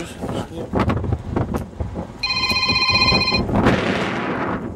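A telephone bell rings with a steady electronic trill at a volunteer site near the front line, sounding clearly for a couple of seconds amid people talking and background noise.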